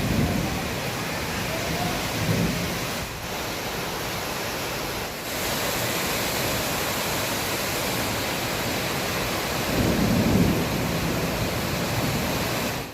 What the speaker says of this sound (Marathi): हे बघा वादळी वारा पाऊस सुरू झालेला आहे.